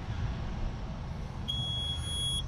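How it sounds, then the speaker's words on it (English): A single sustained high-pitched electronic beep from a Tesla Model 3 electric frunk control sounds for about a second over a quiet low hum. "One beep is the slowest."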